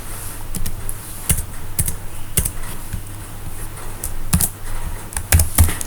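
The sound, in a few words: typing on a computer keyboard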